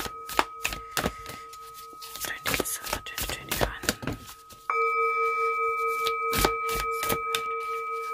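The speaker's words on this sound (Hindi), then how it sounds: "अब सिंगिंग बाउल की साउंड होगी" Singing bowl struck partway through, ringing out in a sustained, steady shimmering tone that fills the second half after a stretch of scattered knocks and taps.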